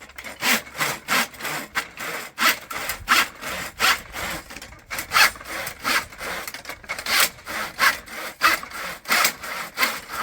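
Hand sawing of wooden barn trim: a steady back-and-forth rasp of a handsaw cutting wood, about a dozen even strokes, close and clear with no talking.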